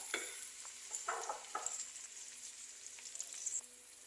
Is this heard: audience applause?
no